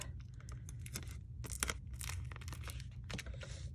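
Faint crinkling and ripping of a piece of tape being torn off during card making, a few quick tearing bursts over a low steady background hum.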